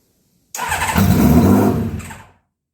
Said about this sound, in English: So here comes the first start.